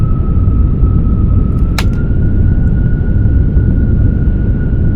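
An F-35B jet engine in the X-Plane 12 flight simulator roars with a loud, constant rumble and a steady whine, while a single brief click cuts through partway.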